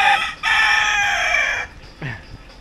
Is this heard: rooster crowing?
yes